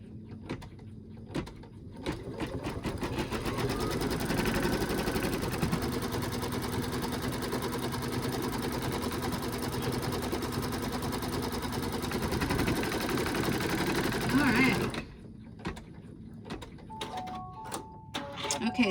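An embroidery machine stitches down a monkey bib in the hoop, running a continuous rapid whirring chatter for about fifteen seconds before stopping, followed by quiet room noise.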